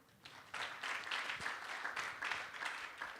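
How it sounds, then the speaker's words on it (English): A crowd gives a brief round of applause at a speech by the chairman of Odu'a Investment, the clapping fairly faint and distant but steady after a quiet start. "So I think Nigerian deserves a round of applause for that."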